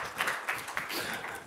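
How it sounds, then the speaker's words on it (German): Audience applause at an international NADH medical conference, a dense spread of many hands clapping at moderate level, with irregular louder bursts, heard alone without talk. "der Applaus dient dir"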